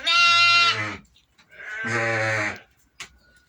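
Two long, loud bleats from a sheep in labor, close by, separated by a pause, followed by a short faint grunt; no talking.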